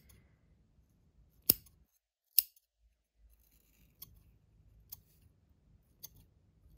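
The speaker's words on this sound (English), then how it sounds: "Carefully, you can cut your lashing on yarn." Scissors snipping lashing-on yarn free from a rigid heddle loom: two sharp, distinct close cuts, then several fainter snips spaced out in a quiet room.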